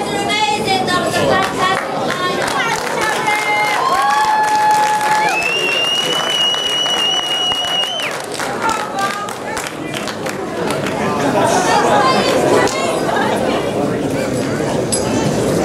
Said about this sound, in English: Big round of applause for those two who were elected last night.